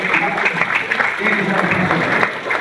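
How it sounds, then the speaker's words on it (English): An audience gives a round of applause at a live event about a breeder of racehorses, steady clapping under a loud talking voice throughout. "Ladies and gentlemen, the breeder of Fahy, give him a round of applause."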